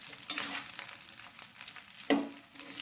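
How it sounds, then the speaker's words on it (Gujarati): Bitter gourd peel muthiya are stirred in a hot tempering of oil, soft sizzling under scraping spoon strokes, with two sharper clanks against the pan, close and fairly quiet. "તો વઘારની અંદર મુઠિયાને આપણે 3 થી 4 મિનિટ આ રીતે સાતરીશું,"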